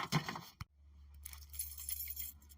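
A bunch of car keys jangles briefly with bright metallic clinks, a short burst followed by quieter rustling and handling, close to the microphone and fairly faint overall.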